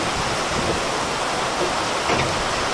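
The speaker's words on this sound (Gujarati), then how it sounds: "મોટા છાંટે વરસાદ આવે છે ભાઈ ફૂલ" Heavy rain falls in large drops, a dense steady roar that carries on without a break, with a few brief louder spatters standing out.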